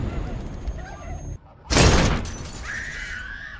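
After a brief hush, a sudden loud blast bursts out with a crashing, shattering burst of noise that fades into rumbling debris, with talk before it.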